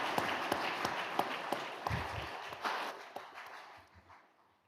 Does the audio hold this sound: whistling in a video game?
no